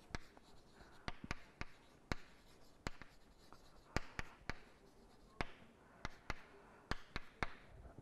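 Hand writing of vector notation on a surface, a series of sharp marker or chalk taps and strokes in an irregular rhythm, close and clear with no speech.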